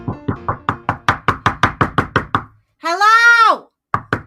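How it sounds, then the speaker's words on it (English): A rapid, loud run of about a dozen sharp knocks on a door forms a story sound effect, broken by a voice making a rising and falling exclamation, then followed by two more knocks. "it sounded like a knock"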